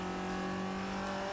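A Mazda MX-5 engine in the racing game Forza Horizon 2 drones at a steady, loud pitch while driving around Castelletto, with no speech.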